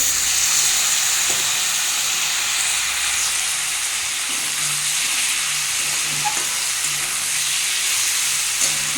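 Dry spices sizzling in a pan as a little water is added for a beet, carrot and green pea curry, a steady close hiss with faint stirring clicks, no talking.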